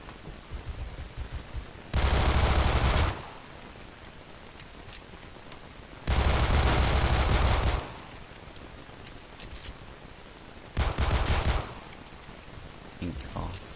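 Glock 18 automatic pistol fire in the Phantom Forces video game, three loud rapid bursts of full-auto shots, each lasting one to two seconds, separated by quieter gaps of low background noise.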